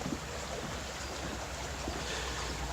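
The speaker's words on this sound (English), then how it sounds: "This is the little creek we were camping out next to." A small creek near a campsite flows in a foggy, misty setting, a steady broadband rushing wash with no distinct events, mixed with light wind noise and no talk.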